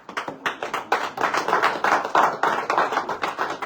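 Audience at a Montargis party rally bursts into rhythmic clapping, steady and fairly loud throughout, with sharp individual claps marking a quick beat and no speech over it.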